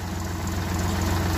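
A tractor engine idles steadily on a rural Punjab farm, a continuous low diesel rumble that holds an even level throughout, with no voices.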